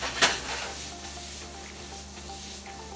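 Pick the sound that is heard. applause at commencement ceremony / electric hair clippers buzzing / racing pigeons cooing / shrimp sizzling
shrimp sizzling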